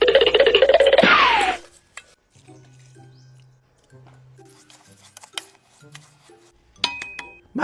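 Ingredients with soy sauce, oyster sauce and olive oil are stirred in a pot, metal utensils clinking and scraping in scattered taps after a brief louder burst of sizzling clatter.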